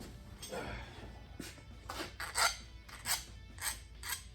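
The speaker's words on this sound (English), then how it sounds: "Don't pull back with the file, guy. That's not how you do it." Hand file rasping a burr off the end of a metal part clamped in a vise in a weld shop, a series of separate strokes, the first slow and the later ones short and regular, close by with a low background hum.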